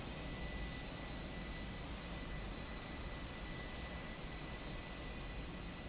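Airplane jet engines roaring steadily at a departure in Microsoft Flight Simulator 2024, a dense continuous wash of engine noise with no talking.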